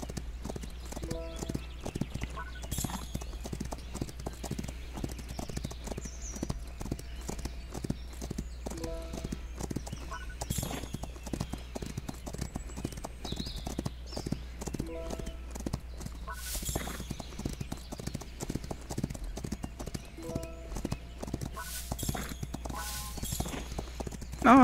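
Steady galloping hoofbeats from a horse in the Rival Stars Horse Racing video game, a fast continuous clip-clop rhythm running throughout with game music underneath and no talk.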